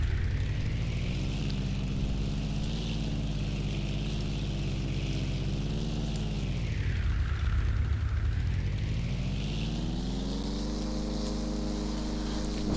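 A Piper propeller aircraft in the SLR RPG game drones loudly and continuously on landing, its engine pitch dipping then rising again, with no voices.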